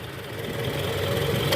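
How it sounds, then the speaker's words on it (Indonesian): A Toyota Alphard engine idles nearby after a tensioner replacement, a low even rumble with no talking over it. "Nah ini guys, mesin udah hidup."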